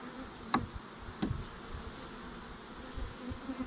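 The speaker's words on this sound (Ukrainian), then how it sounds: "зараз ще ось оцих маленьких злючок витрушую і закриваю вулика" Honeybees from a wild swarm caught in August hum in a steady, faint, continuous drone as they are shaken out into a hive, with two sharp knocks early on from the shaking against the wood.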